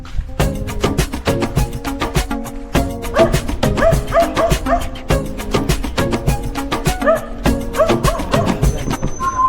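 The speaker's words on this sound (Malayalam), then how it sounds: "കുറേ പട്ടിയുണ്ട് കേട്ടോ ഇവിടെ" A pack of dogs barks and yips almost without pause near wooden forest quarters in an Andaman village on Long Island, loud and close, with overlapping calls filling the whole stretch.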